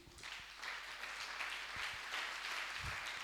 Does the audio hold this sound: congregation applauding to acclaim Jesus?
yes